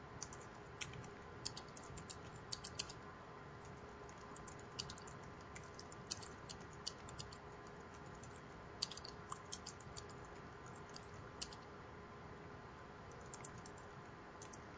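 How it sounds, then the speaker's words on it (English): Steady, quick clicking of keys on a Microsoft wireless computer keyboard while typing in a text editor, close and fairly quiet, with irregular bursts and brief pauses and no talking. "this is a wireless keyboard and I'm typing in Notepad, but at least you get the sound of the keyboard"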